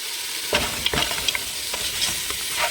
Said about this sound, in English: Mix it up well together.